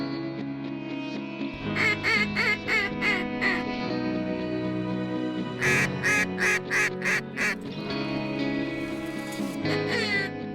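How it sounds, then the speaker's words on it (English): Repeated quacking Reelfoot duck calls in short rhythmic bursts over a steady background of music, loud and close. "Perhaps no sound is more synonymous with fall in Arkansas than the sound of duck calls"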